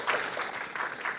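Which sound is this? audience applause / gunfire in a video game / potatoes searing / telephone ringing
audience applause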